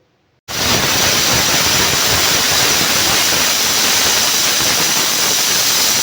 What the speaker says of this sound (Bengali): এবারে আমি প্রেসারের ঢাকনা লাগিয়ে মিডিয়াম ফ্লেমে একটা সিটি দেব।